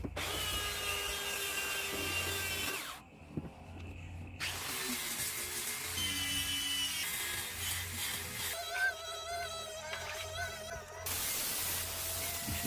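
An angle grinder with 80-grit abrasive sands the uneven corners of a simple low wooden study table, running in a continuous loud whine with a short break and shifting pitch as it bites the wood.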